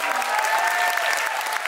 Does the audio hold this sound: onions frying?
no